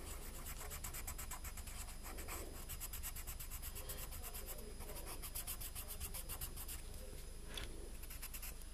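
A black pencil colours in the muzzle of a realistic panda drawing, giving a faint, steady scratchy rubbing of graphite on paper under low background hiss, with no one talking.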